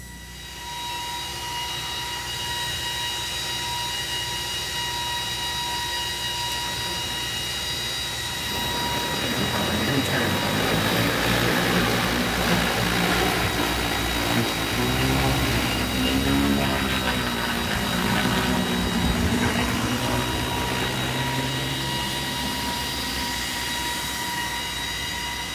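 A J150 agricultural spray drone flies with a loud, steady, multi-tone propeller whine that swells and shifts in pitch partway through, continuous and fairly close.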